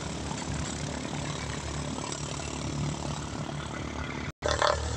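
A small propeller training aircraft engine idles at Lingayen airport in Pangasinan, a steady, even drone throughout that cuts out for an instant near the end and then resumes.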